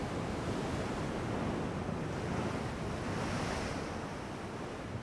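Steady ocean surf and wind from the naval game Ultimate Admiral Dreadnoughts, calm winds with slight waves under overcast skies: a continuous broadband rushing wash of sea and breeze, fairly loud and unbroken, with no voices.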